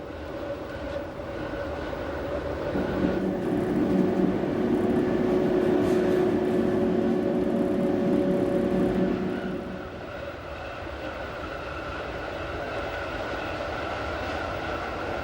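The Glacier Express rolls along the Albula line above a Swiss village, recorded from on board. A continuous rumble of wheels on rails runs throughout, with a sustained droning hum that swells in the middle and then fades back.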